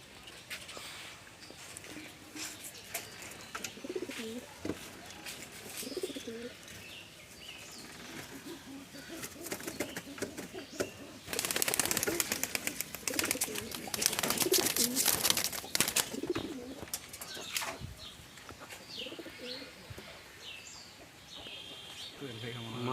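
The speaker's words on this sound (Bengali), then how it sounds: "খুব সুন্দর কবুতর যেরকম চোখ মাশাল্লাহ" Pigeons cooing in a loft, soft low coos and calls recurring under nearby chatter and rustling, with a louder burst of flapping or clatter midway.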